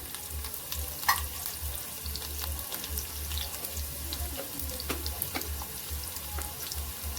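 Mustard seeds and finely chopped onion fry in a pan for a Marathi vegetable dish, giving a steady low sizzle with faint crackles and small pops over a constant hum, close by and with no talking.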